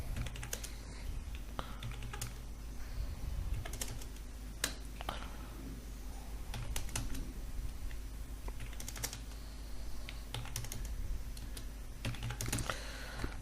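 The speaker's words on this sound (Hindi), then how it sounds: "ये काम जो है हमारा नॉर्मल टाइपिंग का है" Keys on a computer keyboard are tapped during spreadsheet data entry, producing quiet, irregular clusters of clicks with short pauses between bursts, close to the microphone, with no talking.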